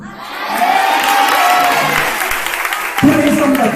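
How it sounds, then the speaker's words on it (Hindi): A crowd at a prophetic prayer meeting in Gorakhpur claps loudly and steadily, with some cheering and shouting mixed in, while voices talk over the applause toward the end. "तू ऐसे खाली ताली बजा रहा"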